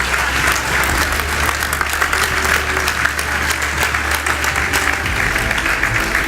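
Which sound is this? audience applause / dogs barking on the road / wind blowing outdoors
audience applause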